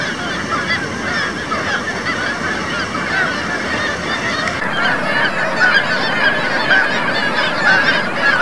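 Geese honk loudly and continuously as a flock, a dense overlapping chorus of calls that carries on steadily without pause and with no voices.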